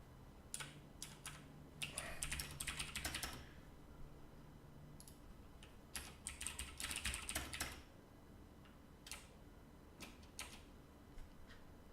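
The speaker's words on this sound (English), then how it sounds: "Hate typing in Visual Studio." Fingers tap on a computer keyboard while coding in Visual Studio, clustered runs of quick light key clicks separated by short pauses, close and quiet with no voices.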